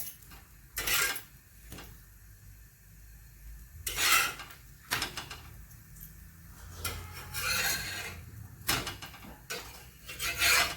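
Gakar flatbread roasting on a pan and flipped twice, heard as repeated rasping, scraping strokes of a utensil on the pan in irregular bursts, fairly close, with no talk.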